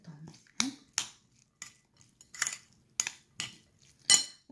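A utensil mixes a potato and grated cheese filling with onion, pepper and corn in a bowl, making about eight irregular, close scraping clinks against the dish with short pauses between strokes.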